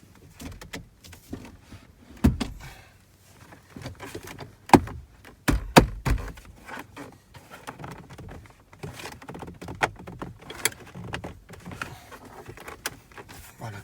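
Upper plastic trim piece around the steering column of a Ford C-Max clipped into place by hand, with scattered plastic clicks, taps and rustles at close range, some louder snaps around the middle, no speech.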